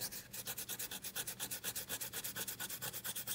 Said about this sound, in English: we're ready to take off our masking. So it just rubs right off with your finger.